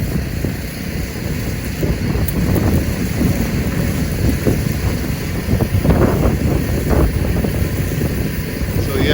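Power washer spraying water on a barn-find tractor, with air still in the line, giving a steady loud rushing hiss with sputtering bursts throughout.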